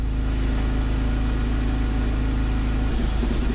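Small portable generator engine running steadily while hooked up to charge a lithium battery, a loud continuous low drone with a constant rumble and no talking.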